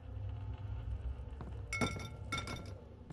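A glass bottle in the Amnesia: The Dark Descent game is struck twice and stays intact, giving two bright clinks over a low, steady rumbling ambience.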